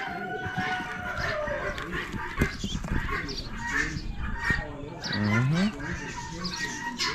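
Guinea fowl at an Amish animal auction calling amid a noisy barn of poultry and other livestock, with crowd chatter and talk running throughout.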